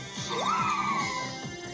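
Leafeon's single rising, synthesized cry from Pokémon Go swoops upward then glides down, thin and electronic, over a soft repeating background tune.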